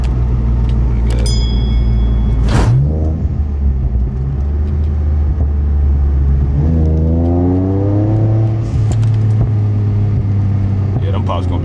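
A tuned Infiniti Q50 engine drones steadily while driving at night, with a rising rev sweep partway through, under intermittent talk inside the car.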